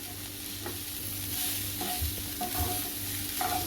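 French beans with freshly grated coconut are sautéed and stirred in an open pan. A steady close sizzle runs under repeated scraping strokes of a spatula, and there is no talking.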